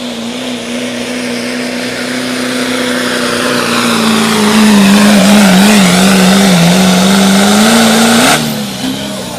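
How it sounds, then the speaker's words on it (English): A big diesel pickup truck, such as a Cummins-powered Dodge, revs hard at a truck pull in Springville, Iowa, its loud engine note holding, wavering and climbing for several seconds before cutting off abruptly. "Here comes the big diesel pickups."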